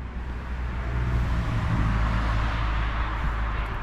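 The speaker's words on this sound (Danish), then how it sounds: "Jeg tror faktisk, der kommer en bil nu." A car approaching and passing on a road behind a wooden plank fence in the open near a hill, a broad, dull whoosh of tyre and engine noise swelling and fading over a few seconds.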